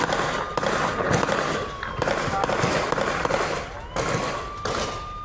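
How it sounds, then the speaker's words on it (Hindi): Anti-drone guns fire near the Samba border area as sharp bursts of cracks and thumps that repeat in clusters over about five seconds, with a brief overlapping voice. "ये देखिए, ये हमारी एंटी ड्रोन गन्स है।"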